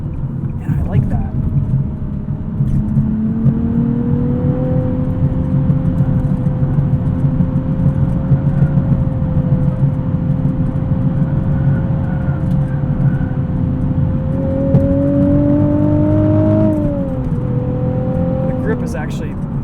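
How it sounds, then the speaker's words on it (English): A 2020 Nissan 370Z Nismo sports car with a six-speed manual, its engine droning steadily from inside the cabin as it drives, with pitch rising and falling gently, while someone talks over it throughout. "I feel like I'm driving a sports car, like I'm driving something that's a little bit special and hard-edged"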